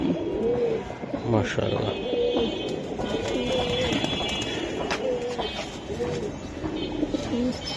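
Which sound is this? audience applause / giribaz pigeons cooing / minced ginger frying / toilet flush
giribaz pigeons cooing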